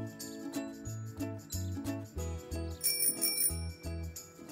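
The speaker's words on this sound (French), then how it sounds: "mon vélo a aussi une sonnette." A bicycle bell rings in repeated quick dings over a light musical backing, bright and close.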